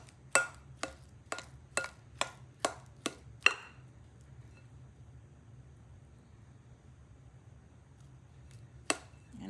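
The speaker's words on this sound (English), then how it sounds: "Let's just slice that up." A knife slices an avocado for guacamole on a cutting board: eight quick, evenly spaced crisp cuts in a row, then a pause and one more cut near the end, close and clear with no talk.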